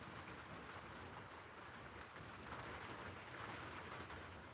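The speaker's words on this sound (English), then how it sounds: "Yeah, rain's starting to. It's like heavy rain now." Heavy rain on a rainy night heard from inside a shed, a dense, constant roar of drops drumming on the roof and surroundings, steady and enveloping, with no voices.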